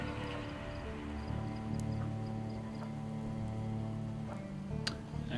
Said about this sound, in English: That's what happens when you go out in the rain.